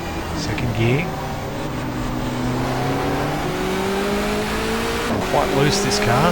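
A 1994 Asia-Pacific touring car racing in the GTR2 video game, its engine droning steadily through the gears with rising and falling pitch, loud and close, with other cars and a voice talking over it.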